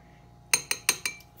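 Metal spoon clinking against a bowl while mixing yeast into milk: four quick, bright taps in an irregular rhythm over a quiet kitchen background.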